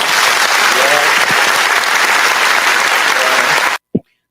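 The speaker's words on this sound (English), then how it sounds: "let's give him a round Yes, of applause" Sustained applause from a crowd, a dense steady roar of clapping that cuts off abruptly near the end, followed by a brief spoken word.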